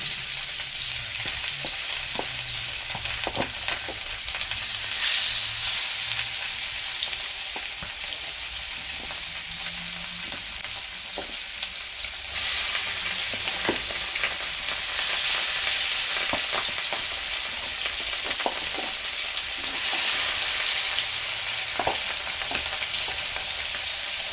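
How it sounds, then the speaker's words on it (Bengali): Pieces of rohu fish belly sizzle steadily in hot oil, a dense continuous fry with scattered pops and crackles, close and loud throughout with no talking. "তেল গরম হয়ে গেছে, এখন দিয়ে দিব রুই মাছের লেস পেটি"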